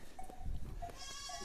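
Goats and sheep in a farm pen bleat in short, faint, wavering calls spread across a second and a half, with low rustling and background noise around them.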